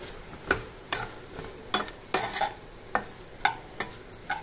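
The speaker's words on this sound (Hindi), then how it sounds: "इसको मैं अच्छी तरह से मिक्स करूंगा।" Mushrooms are stirred with salted butter, garlic and salt in a pan. A spatula scrapes and taps in a regular rhythm over a faint sizzle, close up and with no talking.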